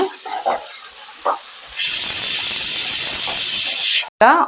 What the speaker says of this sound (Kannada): ಆನಿಯನ್ಸು ಡೈಸ್ ಮಾಡಿಸ್ಕೊಂಡಿರೋದು ಹಾಕ್ಕೋತಾ ಇದ್ದೀನಿ.